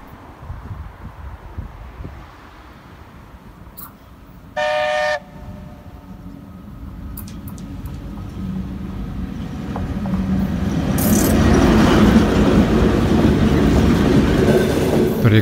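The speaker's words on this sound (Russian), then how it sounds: "посмотрим видео с электровозом" An electric locomotive train passing, rumbling and rattling steadily and growing louder as it nears, with a brief tonal horn blast early on and clicking wheels, no voices.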